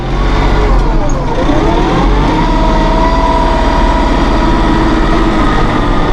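A 2016 Massey Ferguson 1736 Premium Cab compact tractor runs steadily with its shuttle transmission being quickened, its engine a loud, continuous drone with a slight rise in pitch and no speech.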